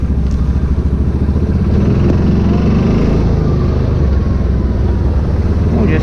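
A 2009 Yamaha Rhino 700 UTV cruises in high gear with a loud, steady engine drone close by, holding an even rumble throughout without pauses.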